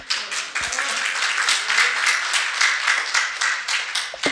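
Audience applause in a Korean lecture hall, a steady patter of many hands clapping at moderate volume for about four seconds, with a few sharper individual claps standing out near the start.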